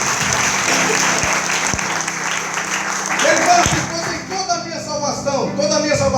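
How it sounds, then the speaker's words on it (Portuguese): A church congregation clapping together during a sermon, a dense sustained burst of applause that thins out toward the end as a voice comes back in. "Se você crê nisso, pode aplaudir o nome de Deus."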